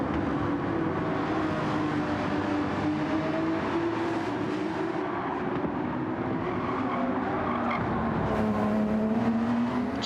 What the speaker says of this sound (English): Just listen to these Porsches come through the corners.